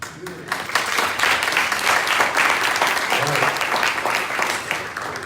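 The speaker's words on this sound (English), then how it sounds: "All right, round of applause." An audience at a 1 Million Cups startup pitch event in Daytona Beach applauding, steady dense clapping that swells quickly and holds for several seconds before tapering slightly.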